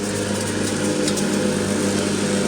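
Steady, loud motorized sanding on a cracked, leaking radiator from a 2003 Hyundai Santa Fe, a continuous droning whir with a mechanical hum that runs without a break the whole time and no voices.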